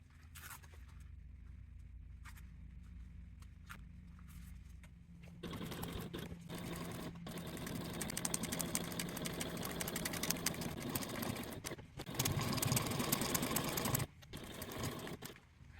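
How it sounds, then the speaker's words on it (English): Sewing machine top stitching the base of a handbag, a steady mechanical whir that starts after a few seconds of quieter handling, running continuously with brief pauses, close and fairly loud. "take to your machine and you want to top stitch the base in place at a 1/8 seam allowance"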